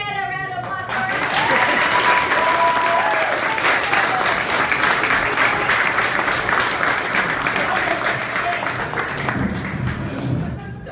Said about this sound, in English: let's get a round of applause for her